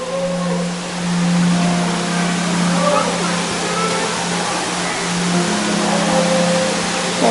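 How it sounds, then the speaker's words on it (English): Steady broadband rush of an underground waterfall deep inside Ruby Falls cave in Chattanooga, Tennessee, a continuous roar echoing around a group of visitors who talk over it. "I hear water."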